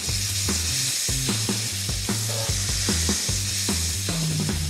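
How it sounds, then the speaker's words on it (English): Bacon sizzles steadily in a hot pan while strips are flipped, with a constant bright frying hiss and a series of close clunks and scrapes from the turning, and no voices. "Let me flip my bacon."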